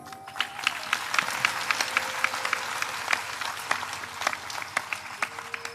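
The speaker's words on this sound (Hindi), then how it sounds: "ताली के लिए" Crowd clapping at a Hindi devotional satsang gathering, a steady stream of individual claps with distinct sharp hits, moderately loud in a reverberant space, continuing for several seconds.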